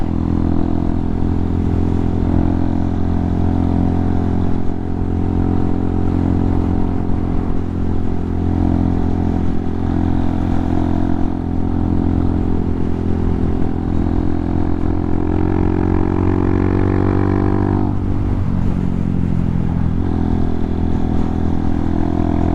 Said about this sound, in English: Feels good to be back on the motorcycle.